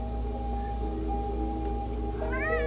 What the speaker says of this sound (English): I literally have been calling my cat Ebrius, Stink, and Son all the time now